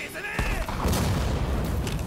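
Cannon fire and battle noise in the video game Rise of Ronin: a sharp boom near the start, then sustained rumbling gunfire and explosions, loud and dense throughout.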